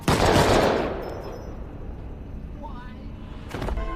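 Gunfire in a film scene as one character shoots another: a loud burst of shots opens, fades into a rumbling tail, and a second sharp burst hits near the end, set among other noisy scene sounds.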